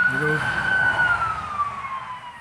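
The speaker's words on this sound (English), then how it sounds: "There's an ambulance." An ambulance siren wails from a distance beside a state highway, its pitch slowly sliding downward as it passes, with a brief voice underneath at the start.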